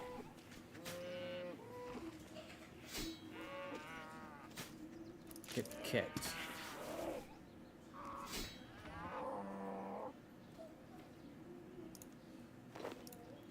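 Cattle in the video game RuneScape moo repeatedly across the scene, several distinct lowing calls close by over game sounds, with someone talking intermittently between them.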